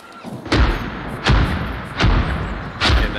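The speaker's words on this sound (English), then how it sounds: "This artillery is ours" Four heavy artillery booms from a multiple rocket launcher, evenly spaced about three-quarters of a second apart, each a deep thud with a long rumbling tail, loud and fairly close.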